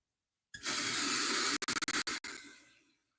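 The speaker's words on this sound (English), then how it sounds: "I will be using a net for the lentils. We'll give them a good rinse." Lentils rinsed in a net under a running tap, a close, steady rush of water that breaks into several quick interrupted splashes before fading out.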